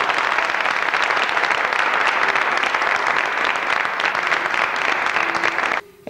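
A studio audience at a 1995 Turkish television show applauds loudly and continuously, the dense clapping cutting off abruptly near the end.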